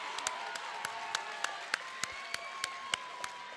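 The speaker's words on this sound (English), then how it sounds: "How about one last round of applause for these two amazing fighters" Audience at a lightweight kickboxing bout applauding the two fighters, with sharp, evenly spaced claps standing out over a steady low crowd murmur.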